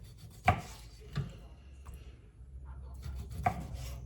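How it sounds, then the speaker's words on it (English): Whitetail deer liver being sliced thinly with a knife on a cutting board: a few soft, irregular knocks of the blade against the board, quiet and close, with faint room noise between strokes and no talk. "just get that whole liver sliced up"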